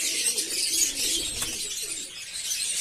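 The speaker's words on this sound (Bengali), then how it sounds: "এই যে একটা নর পায়রা আছে" A male pigeon coos softly in low, rolling phrases against a hissy background, the calls faint and close by.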